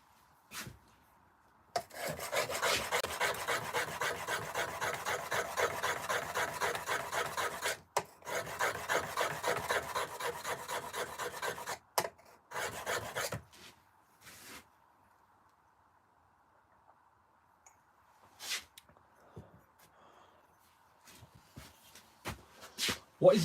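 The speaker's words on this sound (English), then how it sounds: "Sharpen these chisels up." Chisels are sharpened with repeated rhythmic rasping strokes in several bursts, separated by pauses, followed by scattered light knocks and handling noises in a quiet room.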